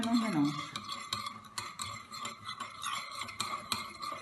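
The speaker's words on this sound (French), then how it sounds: "tu mets l'huile dans le bol. Et maintenant, tu vas tout mélanger." Spoon scraping and clinking around a bowl while oil is stirred into a mixture, a steady rhythm of small taps and scrapes running throughout, with a voice speaking over the stirring at the start.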